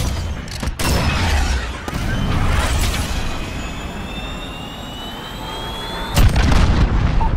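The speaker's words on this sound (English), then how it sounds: "Missile away." A missile launch and a heavy explosion in Call of Duty: Modern Warfare on PC, with loud booming blasts and a dense roar of gunfire and battle noise across the whole stretch.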